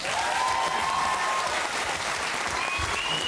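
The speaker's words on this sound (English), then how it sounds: "And can we have a round of applause for Hamish Blake?" A studio audience at a Christmas special of a TV music quiz show applauds for Hamish Blake, a full, continuous burst of clapping with faint tonal sounds drifting over it.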